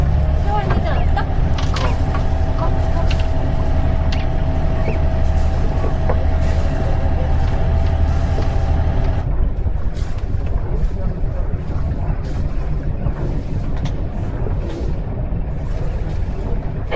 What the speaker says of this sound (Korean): 엔진 문제 있다. 엔진 왜 흔들리지?